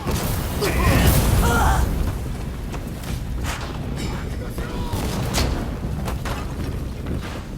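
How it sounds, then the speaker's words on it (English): Cannon fire in the video game Rise of the Ronin brings a heavy booming blast, then rumbling mechanical clatter and scattered bangs under ongoing battle noise. "Fire the cannon!"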